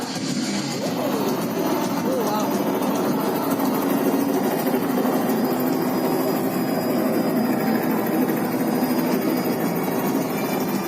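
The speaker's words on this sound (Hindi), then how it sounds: "हम हेलीकॉप्टर से शहर में जाएंगे ताकि सारा शहर हमारे चारों ओर घूमेगा।" A helicopter sound effect plays in a miniature city show, a steady low engine drone and rotor rumble that runs loud and unbroken throughout.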